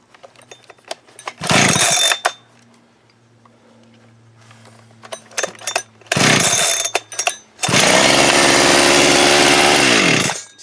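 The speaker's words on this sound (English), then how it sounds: "it's not running good" A Holzfforma G372XT chainsaw restarts after a short pull and a pause, then runs rough in loud, close bursts. It sputters and drops out before roaring into a sustained rev with an uneven tone.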